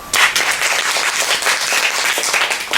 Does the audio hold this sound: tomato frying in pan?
no